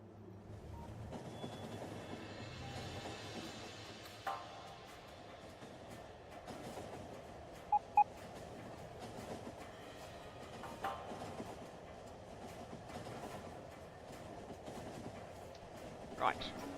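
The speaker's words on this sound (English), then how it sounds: "That'll be the supply train on its way home." A freight train in the video game Factorio rumbles past with rhythmic clickety-clack of wheels on rails, fairly quiet and steady, with occasional brief clanks and squeals.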